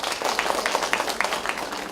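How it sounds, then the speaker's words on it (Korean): A room of people applauding at an award ceremony, with brisk, steady clapping that stays fairly loud for the whole stretch. "다시 한번 격려의 박수를 부탁드리겠습니다."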